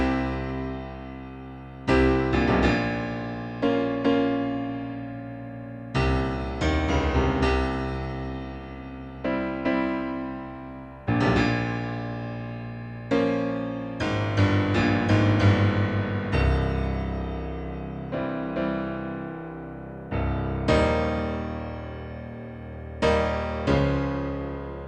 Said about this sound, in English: So here's piano sound number 1.